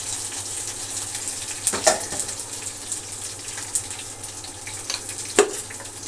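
Onions and curry leaves sizzling in hot oil in a pan, a steady low frying hiss with a few sharp clinks of a utensil, fairly quiet and close.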